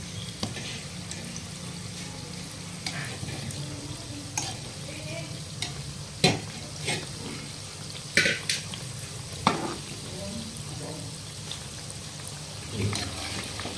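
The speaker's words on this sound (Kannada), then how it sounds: "ಇದನ್ನ ಒಟ್ಟ ಒಂದು ಆರಿಂದ ಏಳು ನಿಮಿಷಗಳ ಕಾಲ ಫ್ರೈ ಮಾಡ್ಕೋಬೇಕ್ರಿ" Balushahi dough frying in oil, a soft steady sizzle with occasional clinks and scrapes of a spoon turning the pieces, close and moderately quiet.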